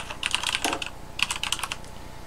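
A password is entered on a computer keyboard in two quick bursts of close, crisp key clicks separated by a brief pause, with no voices.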